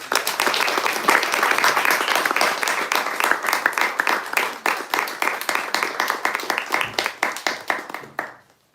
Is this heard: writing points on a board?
no